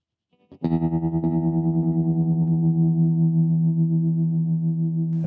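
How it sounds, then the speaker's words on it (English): Tremolo effect on a Donner MultiPad-100 applied to a sustained distorted tone, the held note pulsing in a steady regular throb for several seconds, loud and alone. "Okay, let's try some"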